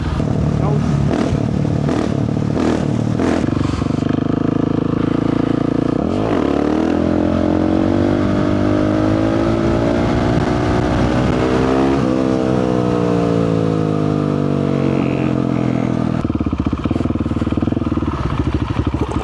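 A KTM supermoto motorcycle rides with a loud, close engine that revs up and down through gear changes, its pitch rising and falling steadily, while a voice talks over it.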